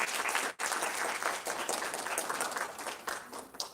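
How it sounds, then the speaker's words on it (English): A large audience at an awards ceremony gives the winners a sustained round of applause, thick continuous clapping with a brief dip near the start before it carries on steadily. "please give them another round of applause"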